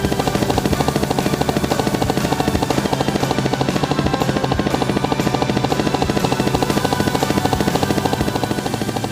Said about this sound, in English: Goofy then landed the helicopter and gave Bun Bun back her sheep